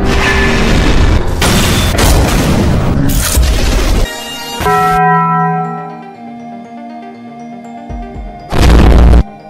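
A barrel blowing up from a detonator script in a video game: loud booming explosion bursts, then a ringing, bell-like metallic tone that slowly fades, ending with another heavy blast, all close and with no voices.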